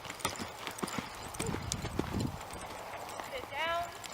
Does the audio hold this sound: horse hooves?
yes